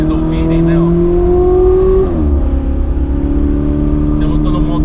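A Ferrari 488 Spider's turbocharged engine revs loud and close in race mode, its pitch climbing then dropping sharply before settling into a steady drone, with someone talking over it throughout.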